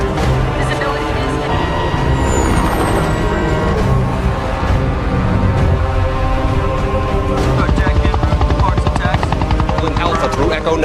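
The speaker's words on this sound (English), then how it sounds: "Get those helicopters away from the ship." Helicopters fly close overhead in a loud, continuous rotor thump over a dense, dramatic soundscape, with voices talking under the din.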